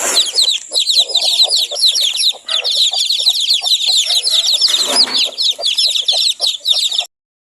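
A mother hen on a backyard chicken farm clucks rapidly and continuously, close and loud, with a busy chatter of chicks or other fowl around her, stopping abruptly at the end.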